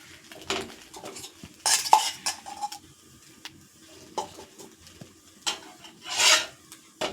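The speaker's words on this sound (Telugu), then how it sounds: "గీ వదిలి ఇలా బ్రెడ్లన్నీ వేడి చేసుకోవాలండి." Bread pieces warmed in ghee on a pan, with metallic scraping and clinking of a utensil against the pan in a few short bursts and a faint sizzle underneath, close and fairly quiet.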